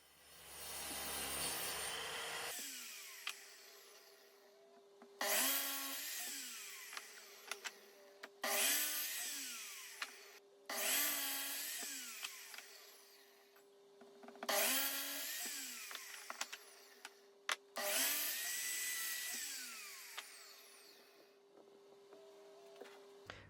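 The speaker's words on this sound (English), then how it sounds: "It's then over to the miter saw where I cut them to 4 equal lengths." A miter saw cuts wood into four equal lengths: four loud cuts, each a blade whine that rises as the saw drops through the board and then spins down. A steady motor hum runs under all of them, with brief pauses between cuts.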